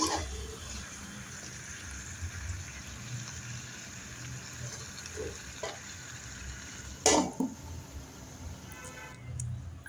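Sonali chicken sautés in a pan with a steady, low sizzle and occasional stirring scrapes, one louder clatter near the end. The sound is close and moderately quiet, with no talking.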